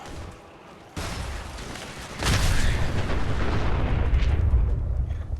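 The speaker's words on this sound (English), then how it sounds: "Now it's going to explode" A sentry bot explodes in the video game Fallout 4, a sudden jolt followed by a louder, deep, rumbling blast that rolls on and keeps roaring for several seconds.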